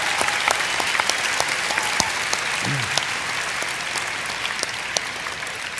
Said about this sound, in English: So can we get a round of applause for the people who help us?